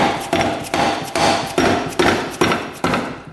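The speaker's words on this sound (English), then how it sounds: "So we'll try the hammer method first, then we'll get our case splitter if it doesn't work." Hammer blows striking dirt bike engine cases to split them in a workshop, about eight sharp, evenly spaced hits, loud and close, with no talk.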